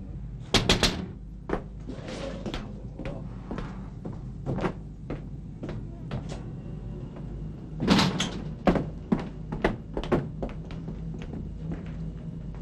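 A door being forced open: a series of sharp, loud knocks and thuds in irregular bursts, with a heavy cluster of blows partway through, nearly free of speech.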